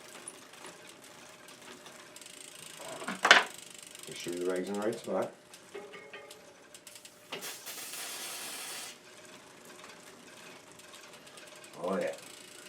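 A bicycle chain and freewheel ratchet in brief clicking bursts as the pedals turn during cleaning, alongside a hiss of spray, with a person talking nearby.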